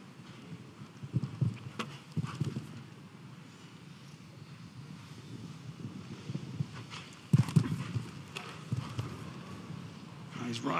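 At the London International Horse Show, a show-jumping horse's hooves thud on the arena surface during a World Cup qualifier round. Dull, irregular strides come in bursts amid crowd ambience, with commentary speaking over them.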